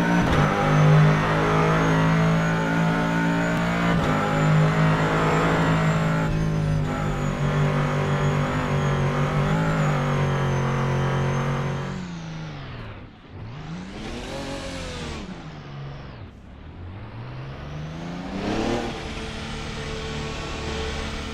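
Corvette C7 Callaway race car in rFactor 2, its engine droning loudly at high revs through a long pull, then dropping sharply twice and climbing again as gears change, with no talk over it.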